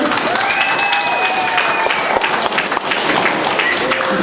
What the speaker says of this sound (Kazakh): Тағы да бір ду қол шапалақтап қоямыз.